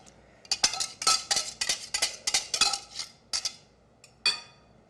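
A small whisk beats picante sauce in a bowl, making a quick run of about a dozen bright metallic clinks up close, then a pause before a few final taps.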